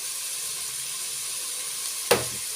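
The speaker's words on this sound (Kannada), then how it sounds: "ಉಳ್ಳಾಗಡ್ಡಿ ಫ್ರೈ ಆಗ್ಯಾವ್ರಿ" Onions frying in oil, a steady faint hiss of sizzling with a brief sharp clink of a utensil near the end.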